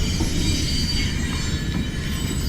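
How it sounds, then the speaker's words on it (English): Train rolling past in the background at an outdoor shooting range during a women's clay target final, a steady, fairly quiet broadband rumble with faint wheel squeal and clatter, no talk. "a great train moving through"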